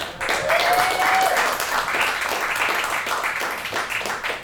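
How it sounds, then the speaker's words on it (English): An audience bursts into loud, sustained applause, many hands clapping together at close range. "round of applause for Bill!"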